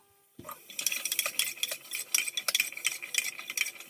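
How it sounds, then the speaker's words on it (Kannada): Cucumber pieces tossed with turmeric in hot oil inside a cooker, a close bright crackle starting abruptly after a short quiet lead-in, mixed with scraping stirs and light utensil clinks, no voices. "ಅರ್ಶಿನ ಹಾಕೊಂಡು ಒಂದು ಎರಡು ಮೂರು ನಿಮಿಷ ಫ್ರೈ ಮಾಡ್ಕೊಳ್ಬೇಕು"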